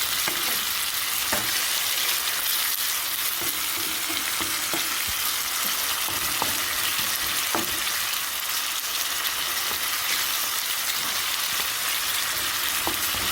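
Tomato sautés in oil for Jamaican salt mackerel, a steady close frying sizzle throughout, punctuated by occasional light clicks of stirring against the pan.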